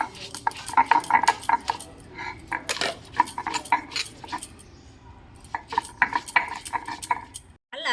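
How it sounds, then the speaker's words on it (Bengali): Soaked ingredients for pakora are lightly ground by hand, with clinking and scraping against a bowl or grinding stone in irregular bursts, a quieter pause midway, and faint background voices. "হালকা করে একটু বেটে নিই।"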